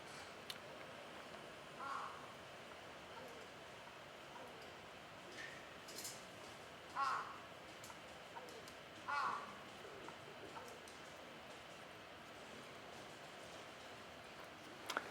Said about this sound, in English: It's really close, is it? It's probably up on our balcony, the bird that just flew up there.